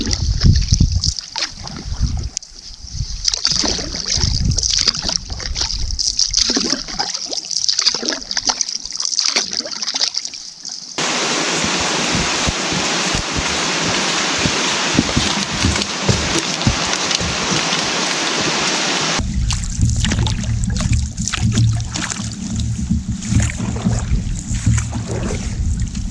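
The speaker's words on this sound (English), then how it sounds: "It's just a beautiful day. for paddling." Canoe paddling on calm water in the wilderness, with steady splashes and drips of the paddle close by that run continuously and swell into a denser wash midway.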